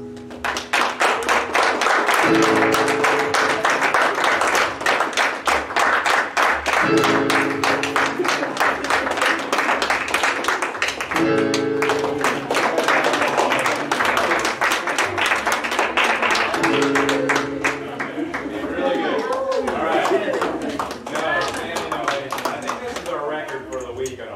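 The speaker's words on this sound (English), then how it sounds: "So, hey, one more round of applause." Sustained applause from an audience at the close of a school performance, dense clapping running loud and steady for the whole stretch, with a low rhythmic thumping pulse underneath and the crowd noise easing slightly near the end.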